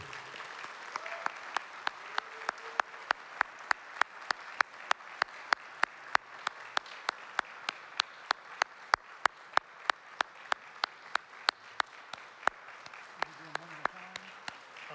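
An audience applauds at a university athletics Hall of Fame induction ceremony for a national championship softball team, with a steady wash of clapping and sharp, evenly spaced claps standing out, and voices underneath.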